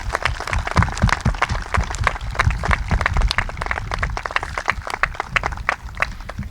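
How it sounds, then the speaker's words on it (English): Audience applause at the Yellin School graduation in Stratford, New Jersey, honoring National Junior Honor Society members: steady, dense clapping from many hands, sustained and fairly loud throughout. "Please join me in a round of applause recognizing the achievements of our National Junior Honor Society"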